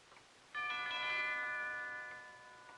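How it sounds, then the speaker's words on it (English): A doorbell rings once with a clear chiming ding-dong that rings out and slowly fades, heard alone in a quiet room. "He just rang the bell again and then stood there."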